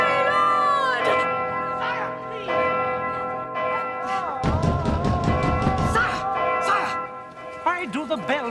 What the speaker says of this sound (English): Why do the bells ring?